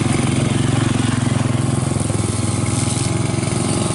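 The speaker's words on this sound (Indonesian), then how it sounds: "karena ini teh ada suara mesin tuh jadi berisik." A motor runs loudly and steadily throughout with a dense mid-range drone and rapid rhythmic firing, close by and without pause, with no voices over it.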